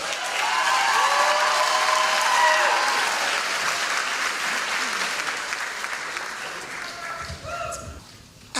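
A large crowd applauds at a high school graduation commencement ceremony in Ellenville, sustained dense clapping that slowly fades, with faint voices and a brief tone near the end.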